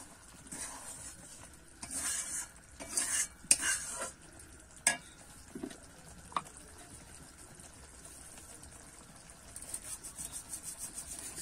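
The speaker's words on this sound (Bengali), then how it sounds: "এবার একটু নেড়ে নেব।" A spoon stirs spinach paneer curry, with kasuri methi, bubbling in a pan on the stove. The scrapes and sizzles are faint and irregular, with a few louder knocks against the pan, then quick rhythmic scraping near the end.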